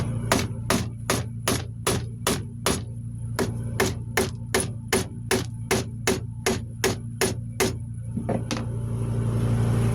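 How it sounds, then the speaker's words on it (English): Steady metallic hammer strikes peening a rivet over onto a burr on a rider safety buckle, about twenty in an even rapid rhythm, sharp and close, over a low constant hum. "just with your hammer, we will just peen that rivet over onto the burr"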